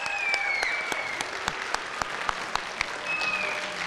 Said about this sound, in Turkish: güçlü bir alkış verelim arkadaşlar